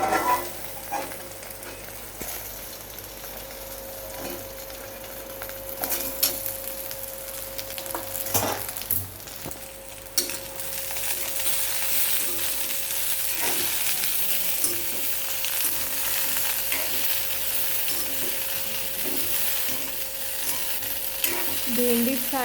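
Okra (bhindi) sizzles steadily in a hot pan while a spoon scrapes and stirs through it in irregular strokes, with a constant frying hiss that stays close and moderately loud throughout.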